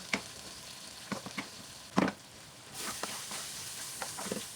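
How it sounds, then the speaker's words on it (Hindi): Sizzling and crackling of boiled chana dal lentils frying in a hot pan with spices, with a few sharp stirring scrapes and pops; the frying hiss swells steadily toward the end. "दाल को डाल के अच्छे से भूनें।"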